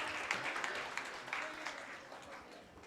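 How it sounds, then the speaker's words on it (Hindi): Faint applause from a gathered crowd at a Jain temple ceremony, scattered claps swelling into a soft, uneven patter that fades slightly toward the end. "उनके लिए भी एक बार जोरदार तालियां बजाएं"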